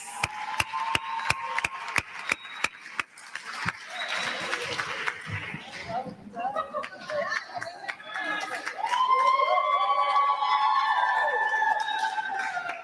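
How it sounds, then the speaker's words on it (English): At a business school graduation ceremony, a hall audience claps in sharp, regular bursts at first, then scattered applause and cheering mix with voices and shouts from the crowd. "Another round of applause."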